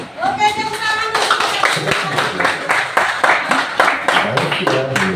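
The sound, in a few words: class clapping hands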